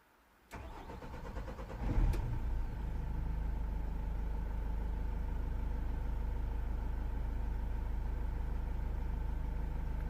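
A Vauxhall Vivaro 2.0 CDTi diesel van with a camshaft range/performance fault cranks briefly, catches after a couple of seconds and then settles into a steady, rumbling idle, heard close up with no talk.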